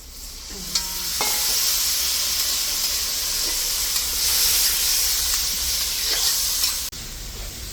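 Water splashes onto spice paste frying in a pan for a puti fish curry with potato and stems, setting off a loud, steady sizzle and hiss that carries through to the end, with faint stirring scrapes.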